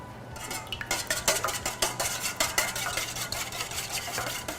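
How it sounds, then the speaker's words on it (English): A whisk beats egg whites in a bowl, making rapid, steady clinking and scraping strokes against the side, close and fairly loud, with a low hum in the background. "I'm gonna try to whip some egg whites into shape"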